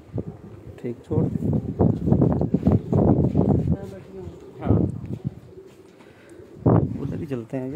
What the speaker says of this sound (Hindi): अच्छा, ये जेठ वाले कबूतर है जी, जो उड़ाएंगे जेठ वाले।